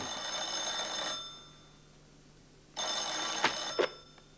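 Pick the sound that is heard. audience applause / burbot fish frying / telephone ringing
telephone ringing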